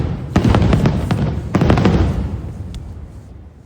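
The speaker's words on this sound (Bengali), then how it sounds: "এখানে ফায়ার ওয়ার্কস, যেটা আমরা ব্যালকনি থেকে দেখতে পাই, সেটাই এখান থেকে এরকম দেখা যাচ্ছে" Fireworks burst over VinWonders in Phu Quoc as seen from the night market, a loud close cluster of crackling pops and booms in two quick bursts, with rumbling echoes trailing away and one last faint pop.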